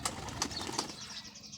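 Soft fluttering of pigeon wings in a brief burst, with faint rustling and a few sharper flaps, fairly close and quiet.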